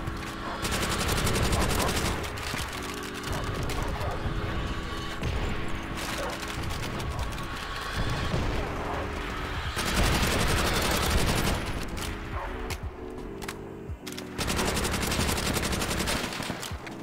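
A gun in the World at War shooter fires loud, rapid automatic bursts that run for several seconds at a time, with short gaps between them, dense and close throughout.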